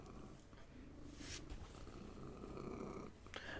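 A cat purrs right into the microphone, a close, low, continuous rumble with a few brief rustles and no voices.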